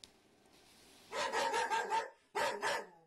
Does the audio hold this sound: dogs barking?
yes